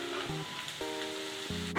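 Chopped green beans and carrots sizzle in a pan for egg fried rice, a soft, continuous frying hiss under steady tonal background music.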